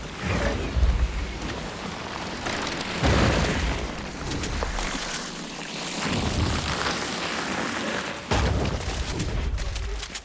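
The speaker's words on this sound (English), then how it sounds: "Oh, this is a bomb." Loud bursts of a bomb exploding in the Fortnite video game, with booming blasts near 0 s, 3 s, 6 s and 8.5 s amid dense game noise.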